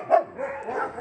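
Dogs at an animal shelter in Angoulême, with one sharp, fairly close bark near the start followed by softer whining and yelping, all within about a second.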